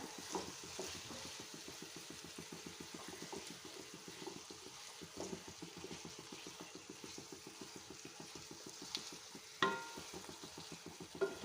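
A spoon scrapes rhythmically around a frying pan of prawn roast with salt added, in fast steady strokes over a soft continuous sizzle, close and fairly quiet, with a louder clunk near the end.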